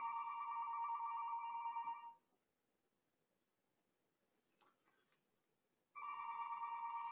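A telephone ringing: a loud electronic trill that rings for about two seconds, goes quiet for about four seconds, then starts again with the same warbling tone.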